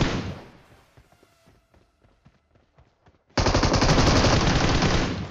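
Gunfire in the mobile shooter game Free Fire: a loud opening burst, a stretch of scattered quieter single shots and thuds, then a sustained heavy automatic volley near the end.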